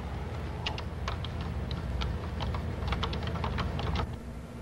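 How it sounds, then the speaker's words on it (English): Typing a program on a Color Computer keyboard, a steady run of light, close key clicks with brief pauses between them. "Type in this little program."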